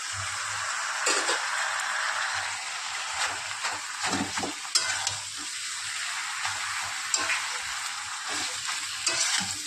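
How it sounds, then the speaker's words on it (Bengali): Pumpkin flowers and leaves frying with dried fish in a pan, a steady close sizzle with occasional stirring scrapes throughout, no talk. "এবার একটু ভাজা ভাজা করে এর মধ্যে দিয়ে দেবো ফুল পাতাগুলো"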